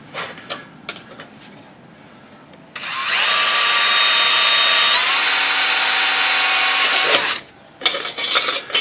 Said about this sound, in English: So I'm going to tap it with a drill here.